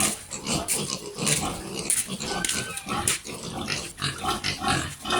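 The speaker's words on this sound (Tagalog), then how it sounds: "daming baboy po dito" Many native pigs grunt and squeal continuously nearby, a dense, noisy chorus of snorts with no pauses.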